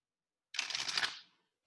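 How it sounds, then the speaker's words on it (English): One riffle shuffle of playing cards during a card tricks class, a quick close-up burst of fluttering card clicks lasting under a second, then silence. "Now the riffle shuffle."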